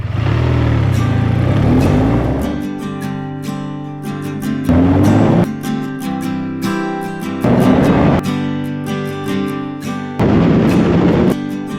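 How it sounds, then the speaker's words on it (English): A BMW R12 NineT motorcycle pulls away hard in repeated loud bursts of revving, each rising through the gears with sharp shifts between pulls, close to the listener and without talk. "Check out how this thing takes off. This bike is fast."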